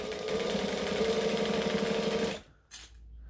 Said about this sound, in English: Stitch and back stitch, making sure we're on adjoining stitch length